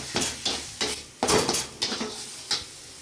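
Mashed taro leaf paste being stirred in a kadai, a series of distinct close scraping strokes with light clinks and a faint sizzle between them.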